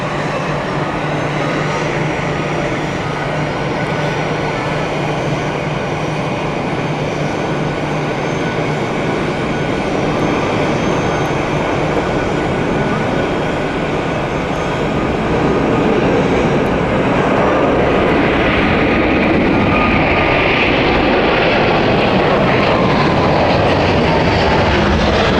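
A Swiss Boeing 777-300 airliner taking off at Zurich Airport, its engines roaring loud and unbroken, swelling slightly as the thrust builds and the jet draws nearer.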